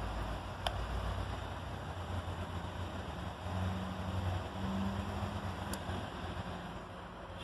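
A small portable Mr Heater propane heater runs off an inverter, giving a low, steady blowing rush of air with a faint fan hum that stays constant and fairly quiet throughout, with a couple of tiny clicks.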